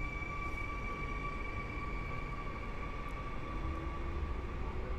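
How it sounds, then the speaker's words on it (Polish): Stadler FLIRT electric multiple units pulling away from Warszawa Powiśle station in autumn, a steady broadband rumble with sustained tonal whines from traction motors, continuous and moderately distant, no voices. "Ruszają flirty."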